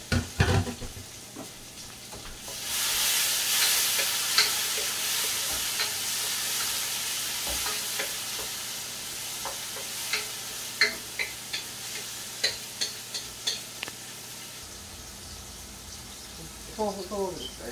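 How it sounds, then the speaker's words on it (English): Celery, shallots and tomato hit hot oil for a Guyanese snapper curry and sizzle loudly, settling into a steady close fry. Stirring clicks and light taps sound over it, and someone speaks at the start. "I'm throwing my celery, my shallots, and my tomato now in the curry in the oil so it can fry up a little bit"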